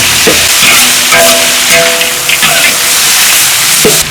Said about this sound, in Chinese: 几颗白果，干辣椒， 稍微给它炒一下